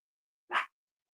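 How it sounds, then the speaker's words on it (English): A single short, sharp bark from a dog outside, heard once and alone against silence. "My dog's barking outside."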